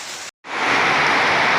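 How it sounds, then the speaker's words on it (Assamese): Steady rain falls outdoors during a monsoon-season trip, a dense, even hiss close by that cuts out for a split second and then resumes at full strength. "তাৰপিছত এয়া এতিয়া বৰষুণ, কি যে হ'ব"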